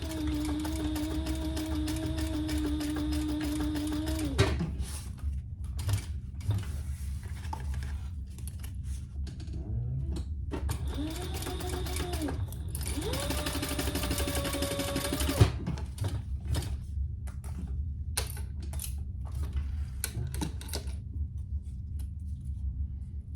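A sewing machine stitches the ends of a fabric wallet closed in bursts of rapid, even whirring, pausing between runs with small handling clicks.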